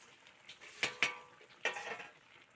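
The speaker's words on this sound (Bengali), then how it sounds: "তো আমি এখন নাড়াচাড়া করব পুরো নরম হয়ে গেছে" A utensil scrapes and clinks against a pan while sweet raw mango pickle is stirred, giving a few sharp, quiet metallic taps and scrapes spaced unevenly over soft sizzling.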